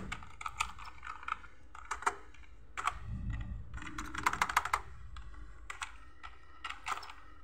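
Typing on a computer keyboard while writing C++ code for a programming solution, with steady bursts of key clicks and brief pauses, fairly close and moderately loud, with no talking.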